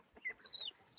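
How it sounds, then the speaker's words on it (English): A full-grown male turken chicken clucks in an aviary, giving several short, quiet, rising and falling calls in quick succession, close by and alone. "So now I got a full-grown turken, a full-grown male bird in there."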